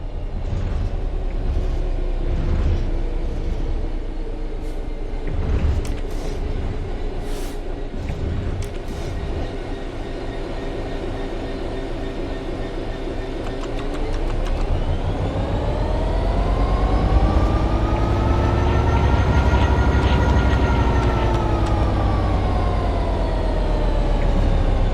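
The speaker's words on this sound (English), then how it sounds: "The train will then coast on level ground, and the train will only slow down very gradually." A train in the Train Sim World 3 simulator coasts on level ground with the throttle at zero, giving a steady, loud low rumble and hum. A rising tonal whine swells midway and then holds, with no talking.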